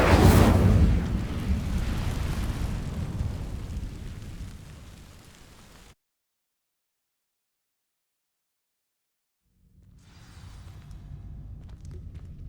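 An Incendio fire spell igniting dry vines in Hogwarts Legacy, a loud whooshing roar of flame that slowly fades, cuts to silence, then returns as a quieter crackling burn.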